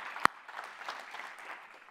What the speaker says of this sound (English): You've got a hand clap of praise for that.